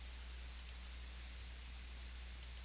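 Tab key pressed on a computer keyboard, two pairs of sharp, light clicks against a steady low hum with quiet gaps between them.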